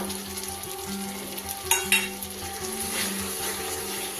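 Cashew paste being stirred into fried spices in a pan for doi chicken, giving an even sizzle with a couple of brief metallic scrapes, under faint tonal background music.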